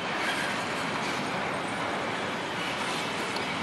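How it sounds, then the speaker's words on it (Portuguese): Empty Rumo L35 cellulose freight train in Brazil running past, with Suzano and FTT wagons; a steady, broad roar of rolling railcars and rattling, close and continuous with no clear breaks. "O famoso trem VCP, trem que tem muita história aí no trecho"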